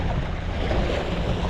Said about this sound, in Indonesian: Ombaknya mulai naik ini